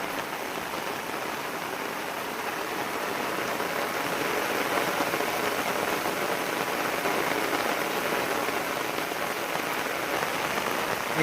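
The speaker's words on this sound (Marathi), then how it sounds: "आणि बघा, पाऊस एवढा पडतोय जोराचा." Heavy rain pours steadily over sugarcane fields in Konkan, a dense, continuous hiss that stays loud and even from start to finish with no voices.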